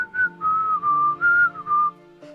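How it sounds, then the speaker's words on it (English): A person whistles a short tune alone, five clear sustained notes in a smooth, slightly wavering melody, close and fairly loud with brief gaps between phrases. "you can kind of like hear him whistling a tune"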